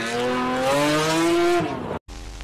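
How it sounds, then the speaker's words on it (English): A Toyota Supra's engine howls and climbs in pitch with a high, jet-like whine, loud and close, then cuts off abruptly before a brief lower rumble returns. "It almost sounds like a jet engine."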